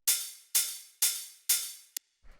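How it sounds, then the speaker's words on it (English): Four evenly spaced open hi-hat hits from a techno sample, bright and sizzling with long decaying tails, followed by one short clipped hit and a faint low thump. "After that, I have this hi-hat, which sounds like this."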